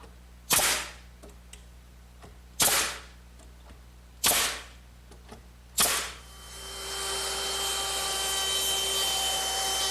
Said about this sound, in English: So I'm going to put a couple nails at each edge.